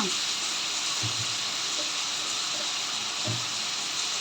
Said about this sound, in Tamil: இந்த தக்காளி நல்லா வதங்கட்டும் ஃப்ரெண்ட்ஸ்